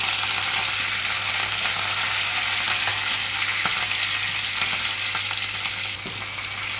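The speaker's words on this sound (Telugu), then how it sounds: "ఆయిల్ అంతా హీట్ అయిన తర్వాత తాలింపు గింజలు ఎండుమిరపకాయలు వేసుకుంటున్నాను" Tempering seeds, dry red chillies, slit green chillies and curry leaves frying in hot oil, a loud, even sizzle close up with a few sharp pops and spatters and no one talking.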